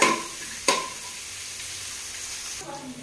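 Onions frying in a pan for chicken pulao, with a steady low sizzle and two sharp stirring scrapes near the start and a softer one later, heard without talk.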